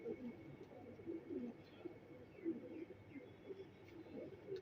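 A breeder pair of teddy bear pigeons coo softly and repeatedly, close by, in a quiet setting with no talking.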